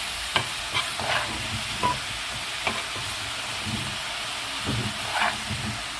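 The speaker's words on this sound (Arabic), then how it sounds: "خدي تشويحه كده اهو بالبصله بالكشري عشان ايه يفلفل معاك اهو" Koshari with onion sautéed and stirred in a pot, a steady sizzle with scattered spoon scrapes and knocks throughout, close and even.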